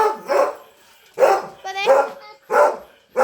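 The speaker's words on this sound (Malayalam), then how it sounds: "നമ്മുടെ സുന്ദരനായ പട്ടി." A German-breed dog barks loudly and close by in four separate bursts spaced about a second apart, with a whine-like tone in one bark and people talking alongside.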